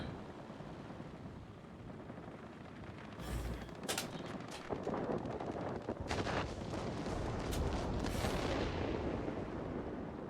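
Aircraft bombs detonating in World of Warplanes, with Japanese Army Air Force planes overhead: several heavy, roaring blasts burst out one after another over a constant rumbling din of engines and gunfire.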